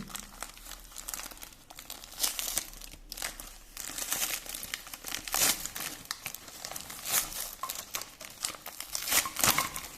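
Plastic bag crinkles and rustles in quick, irregular bursts, close by and fairly quiet, with no talking.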